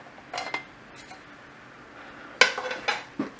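Metal clinks and rattles come as rusty screws and the metal top panel are removed from a TEAC MB-20 audio unit: a few light taps early, a sharp clatter midway, then several smaller knocks, all close and isolated.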